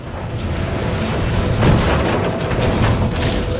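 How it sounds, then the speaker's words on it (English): Dull, booming rumbles roll through a dense, noisy wash of sound, like game explosions blending into steady background clatter, in the video game Just Cause 3. "Explosions coming."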